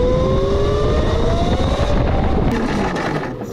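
A 72V Surron electric go-kart accelerates with a rising, whining motor tone that climbs steadily in pitch over a loud rush of tire and road noise, sustained close by for a few seconds.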